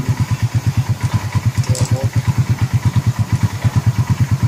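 An overheating, smoking motorcycle engine idles close by with a steady, rapid, thumping putter that holds an even rhythm throughout.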